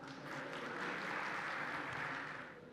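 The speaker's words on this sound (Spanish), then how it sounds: "Un fuerte aplauso para él, por favor." Applause from a livestock expo audience welcoming a World Bank livestock expert, a steady dense wash of many hands clapping that swells and holds for a few seconds, then tapers slightly at the end.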